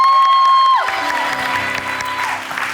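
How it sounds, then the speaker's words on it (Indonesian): A studio audience applauds at a televised game show, a steady burst of clapping following an electronic chime that fades out. "Tepuk tangan untuk Lingga."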